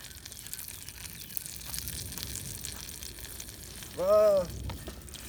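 Butter melting in a Dutch oven for cheddar biscuits gives a steady low sizzle throughout, with a brief louder whistling, rising tone near the end.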